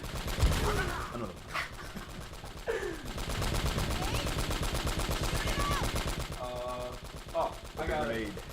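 Rapid automatic gunfire in the video game Uncharted: Drake's Fortune rattles on in dense bursts, mixed with shouts and game effects, with a voice talking over it.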